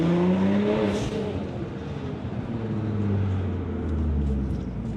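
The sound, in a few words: car exhaust heard from inside the car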